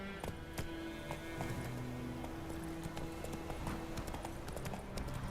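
Horse hooves clip-clopping at a steady gallop in The Witcher 3 video game, a continuous close rhythm of dull thuds with an occasional brief whinny, no talking.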